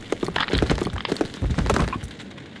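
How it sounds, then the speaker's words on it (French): Stones tumble and fall in a rapid series of heavy thuds and cracks, irregular and close, with clattering impacts overlapping for a couple of seconds. "Des pierres tombent."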